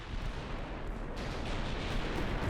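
Continuous heavy naval gunfire aboard a warship in a battle near Jutland from Ultimate Admiral: Dreadnoughts, a dense rumbling barrage of booms blending together without pause.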